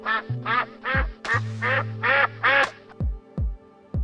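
Geese on a foie gras farm, penned and force-fed, give a close series of about eight short, nasal, quacking honks with brief gaps between them.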